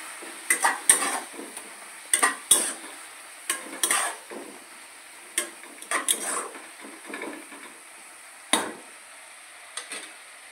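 Spoon scraping and clinking around a metal pot while cumin and coriander powder are mixed into spinach dal, a run of distinct close scrapes and knocks spaced irregularly with quiet gaps between.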